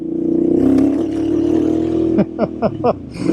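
A deep Royal Enfield Super Meteor 650 motorcycle engine with an aftermarket exhaust idles with a throaty rumble, then blips the throttle in a few sharp revs, loud and close.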